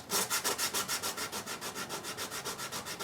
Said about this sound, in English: So in order for me to glue this on and to also paint it later on, I do have to sand the top surfaces.